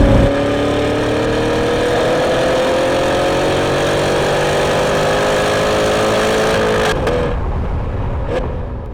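A Shelby car's engine drones steadily at full throttle on a race track, rising slowly in pitch as it pulls hard, then the sound drops away near the end as the throttle is released.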